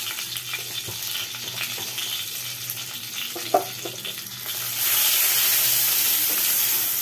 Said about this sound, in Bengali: হাই করে দিয়ে এবার এর মধ্যে আমি তেজপাতা দিয়ে দিলাম আর একটু গোটা জিরে ফোড়ন দিয়ে দেবো